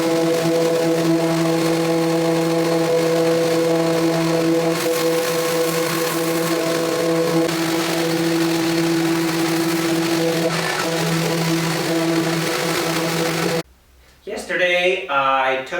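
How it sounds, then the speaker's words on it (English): An orbital sander with a soft pad runs steadily over the hull of a small wooden boat, a loud, even whirring drone with a constant hum, ending abruptly before a voice speaks. "So I'm just using minimal pressure here, making sure that the soft pad on the orbital sander does not roll over the chines."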